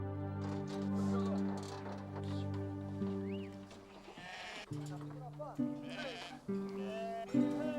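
Sheep bleat repeatedly in Samarina, Greece, several overlapping calls over a sustained tonal drone, fairly close and clear.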